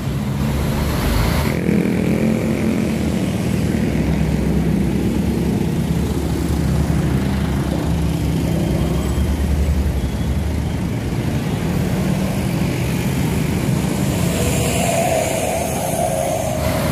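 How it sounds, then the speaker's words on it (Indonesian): Gunung Harta double-decker tour bus rolling through the Cileunyi junction amid other traffic, a loud continuous engine roar and road rumble that swells and shifts as it passes, no talk. "Ada bis double decker melintas di Simpang Cileunyi."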